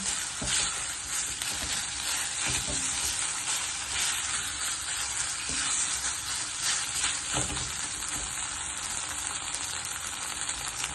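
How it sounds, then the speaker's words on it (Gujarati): Corn mash roasting in a pan for corn patties gives a steady, close sizzle and frying hiss that runs for the whole stretch, with a few faint stirring scrapes and no voices. "આ મકાઈનો માવો થોડો શેકાઈ જાય એટલે પછી બટાકાનો માવો અંદર મિક્સ કરી દેવો।"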